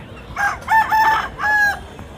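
A rooster crows loudly and close at a village country-chicken market, one drawn-out call in several rising and falling segments, heard alone with no talking.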